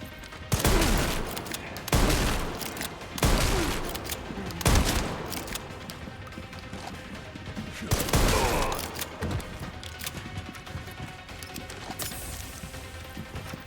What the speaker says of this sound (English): Maybe the machine gun's not as bad as I thought.